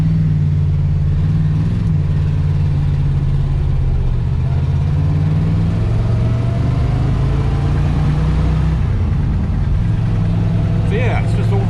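A Pontiac Trans Am's engine, over-fueling, runs steadily with a deep, rough idle and slight rises in revs, loud and close, while a person talks over the rumble.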